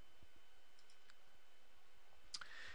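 A computer mouse gives a few faint, sparse clicks over quiet room noise, with a sharper click near the end.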